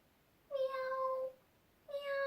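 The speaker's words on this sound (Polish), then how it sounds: "Miau, miau, pisnął cichutko" A kitten meows twice, softly and plainly, with a short pause between the two calls and nothing else behind them.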